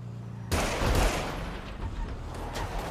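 Gunfire in the video game GTA 5 erupts suddenly after a quiet moment, a dense burst of rapid shots that stays loud and then trails into scattered cracks and rumble.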